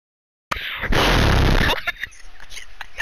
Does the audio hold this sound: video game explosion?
yes